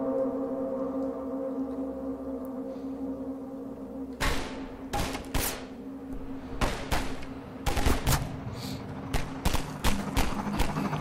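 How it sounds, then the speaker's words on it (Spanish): Gunfire in the Half-Life 2 video game, a series of sharp gunshots arriving singly and in quick clusters over a steady low background hum, moderately loud. "que me disparan"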